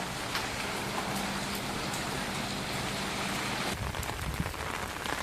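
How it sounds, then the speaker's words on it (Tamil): Rain falls steadily outdoors on someone walking under an umbrella in windy weather, a dense close patter of drops on the surface with a brief gust or shift near the end, no talking. "மழை வேற பாருங்க எப்படிதான் நடந்து போகணும் காத்துல கொடைய தூக்கிதுங்க"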